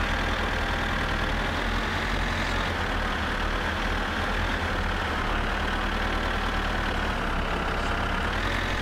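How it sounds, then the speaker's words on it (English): A tractor engine drones steadily and loudly while driving in the video game My Summer Car, a constant low mechanical rumble with a faint higher whine and no talking. "Hop into the tractor and drive across the bridge until the first turn to the right."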